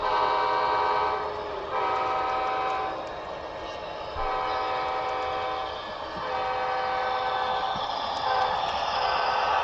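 Model trains run on a small loft layout, giving a soft continuous rolling rumble with repeated horn or whistle tones that fade and return, fairly faint and with no talk.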